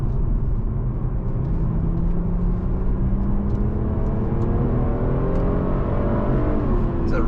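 A lowered BMW M340i on the move, engine and tyre roar steady at first, then rising in pitch as the car accelerates hard toward the end.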